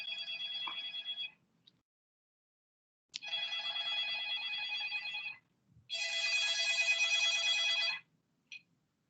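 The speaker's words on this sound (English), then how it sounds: "there was some phone ringing" A phone rings in a quiet lecture room in three long electronic bursts with gaps between them, followed by a short chirp, moderately loud, with no talking over it.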